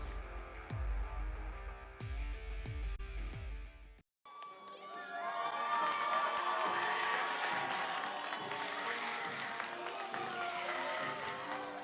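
After a few heavy thumping beats and a sudden cut, a Bishop Heelan student section at a Friday night high school game erupts in loud sustained cheering and shouting, close and continuous to the end.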